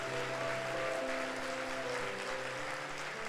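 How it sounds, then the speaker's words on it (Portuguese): A church congregation at a Sunday service claps together for Jesus, a dense, steady wash of applause lasting a few seconds with sustained tones from music or voices underneath. "dê um aplauso bem forte ao Senhor Jesus"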